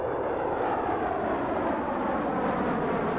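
Handley Page Victor jet bomber flying aerobatics, a steady distant engine roar held at even loudness throughout with no voices.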